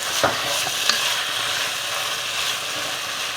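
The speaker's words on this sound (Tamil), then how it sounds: "இதை மீடியம் ஹீட்டில் ஒரு 5 மினிட்ஸ் நல்லா வதக்கணும்." Chicken biryani masala sautéing in a pan over medium heat gives a steady close sizzle, with a few sharp stirring scrapes early on and no talking.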